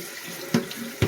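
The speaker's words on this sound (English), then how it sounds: "I'm running cold water on it" Cold water running from a kitchen sink tap onto freshly foraged herbs, a steady close hiss with two brief louder splashes as the flow hits the leaves.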